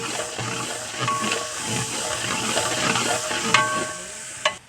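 Onions fry in a large pot for degi chana pulao and are stirred steadily, giving a continuous sizzle under rhythmic scraping strokes. A couple of sharper metallic clinks come near the end.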